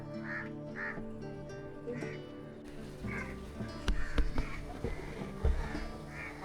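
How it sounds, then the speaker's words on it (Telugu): Crows near the Murudeshwar temple grounds give a few scattered caws over a low background hum, followed by some knocks and handling noises close by. "చాలా కాకులు ఇక్కడ చూసినాం"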